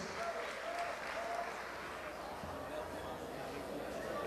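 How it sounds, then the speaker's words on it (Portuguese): Audience applause for the third-place winners at a gaúcho song festival final, a steady, fairly distant wash of clapping that holds evenly throughout with faint crowd murmur mixed in. "Vamos aplaudi-los mais uma vez."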